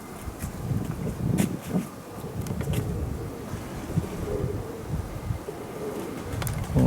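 Pigeons in strong wind, cooing low and intermittently near the microphone beneath heavy wind rumble and buffeting that persists throughout.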